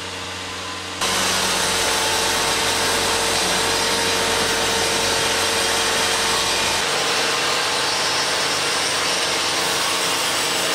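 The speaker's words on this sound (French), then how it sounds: "Une scie circulaire enlève l'écorce pour éviter le risque de présence de cailloux avant le passage du ruban." At a sawmill, a circular saw strips bark from a log before band sawing, a loud continuous broadband whine and grind that starts abruptly and holds steady throughout.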